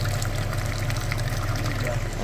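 Flushing fluid surges through the engine cooling system of a Mazda CX-9 with old antifreeze, a steady watery rush over a low pump-like hum, constant and close.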